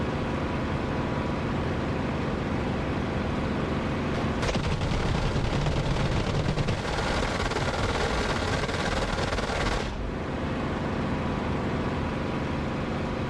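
Sustained roar of enemy fire in the DCS flight simulator, a dense rattling wall of shots over steady engine noise, loud and continuous for several seconds before easing off.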